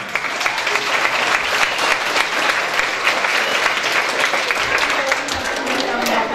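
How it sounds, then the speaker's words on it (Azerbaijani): An audience at a village school's New Year celebration breaks into sustained, dense applause that fills the room steadily from start to finish. "Onları bir yaxşı alqışlayaq."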